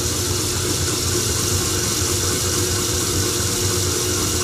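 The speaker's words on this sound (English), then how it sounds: "first thing I do is start the motor. Start the motoring it." Small Scotch yoke engine spun by an electric motor, steady continuous mechanical whir and rumble with an even drone throughout, no voices.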